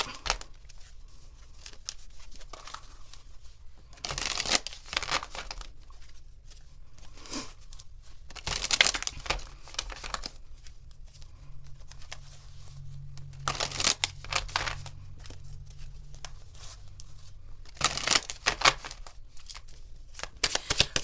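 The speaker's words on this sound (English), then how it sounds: "Let me get a couple of shuffles here" Tarot cards are shuffled in several quick riffling bursts, separated by quieter pauses with soft handling noises, close up and fairly faint.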